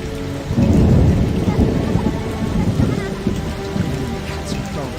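Heavy rain and rolling thunder in a storm in the PC game The Witcher, a low rumble swelling loud after half a second and holding steady over dense, hissing rainfall throughout.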